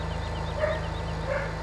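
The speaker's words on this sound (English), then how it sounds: "the dog and the cat are going at it again" A dog barks in Farming Simulator 17, two short, mid-distance barks spaced about half a second apart over a steady low engine hum.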